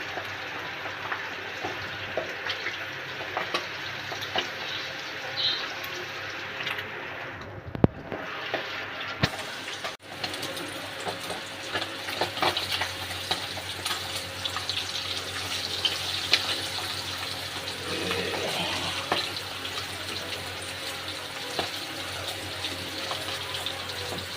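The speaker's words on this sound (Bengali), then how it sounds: "তেল গরম হয়ে গেছে, মাছটা আমি এবার ভেজে নেব।" Pabda fish sizzle and fry in hot oil in a home kitchen pan, a steady hissing crackle with occasional sharp pops and a brief clatter partway through, and no talking.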